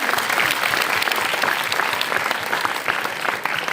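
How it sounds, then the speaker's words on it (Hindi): Loud, dense applause from an audience of schoolchildren honouring a student at a child-safety awareness session, continuous clapping that fills the room without pause. "समृद्धि के लिए तालियां हुए जोर से"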